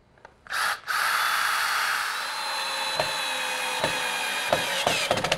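A power drill bores pilot holes for screws through a wooden Adirondack chair leg, starting with a short burst, then a steady close whine with sharp clicks and knocks near the end; no one speaks.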